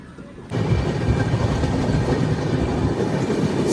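A passenger train on the Delhi to Vizag route near Peddapalli Junction, heard from inside as it runs along the rails: a steady, loud rumble with rhythmic wheel clatter that starts abruptly after a quiet half second and continues unbroken.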